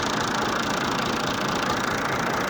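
A tractor engine runs steadily while hauling a trolley out of a deep sand pit, a continuous mid-pitched idling drone with no breaks, fairly loud and alone throughout.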